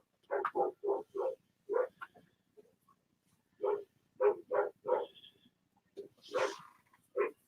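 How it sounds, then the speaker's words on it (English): A dog barks in quick bursts of three or four, pausing between volleys, fairly faint and somewhat distant, with no talking over it. "The dog's barking."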